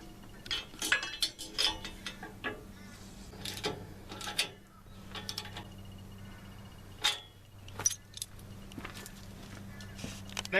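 Metal bolts from a kit clink and rattle in short, scattered bursts while parts are handled during a rear remote install on a Kubota MX tractor, with a steady low hum underneath.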